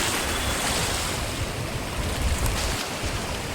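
Sea waves surging onto a beach at Madh Island, Mumbai, at high tide, a steady loud broadband wash with rolling surges and wind noise throughout, no voices.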